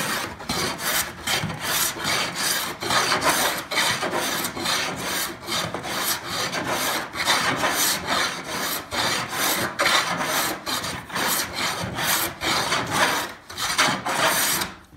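Hand plane shaving across a solid oak tabletop being flattened for glue-up, rhythmic rasping strokes repeating steadily about once a second, close and fairly loud, with no voices.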